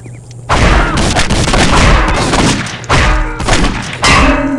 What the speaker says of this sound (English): Now I got a machine gun.